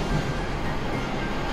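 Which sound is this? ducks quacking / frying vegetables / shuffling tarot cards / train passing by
train passing by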